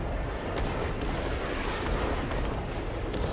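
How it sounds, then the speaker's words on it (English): A naval gun salvo in World of Warships booms as a heavy, continuous roar with rumbling low end. Faint repeated cracks sit in the wash of sound, and no one speaks. "I'm gonna have to dodge here this salvo."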